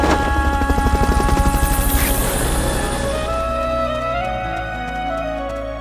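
A helicopter's rotor in the video game Metal Gear Solid: Peace Walker thumps in a fast, steady pulse, then fades away as music swells and takes over.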